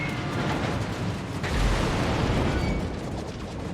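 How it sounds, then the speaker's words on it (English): A steady rumble of bombs exploding in the Malta flight game, made up of a continuous broad roar with a heavier deep swell midway and no distinct separate blasts, all under a dense mixed game noise. "we do drop a lot of bombs"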